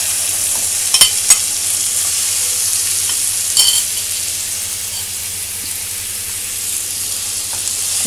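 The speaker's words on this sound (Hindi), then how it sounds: "अब मैं चिकन जिसको मैंने मसाला लगा के रख लिया था फ्राई पैन में, थोड़ा सा तेल डाला है" Chicken marinated in tandoori masala and ginger-garlic paste fries in a little oil in a frying pan, giving a steady soft sizzle with a few faint stirring knocks.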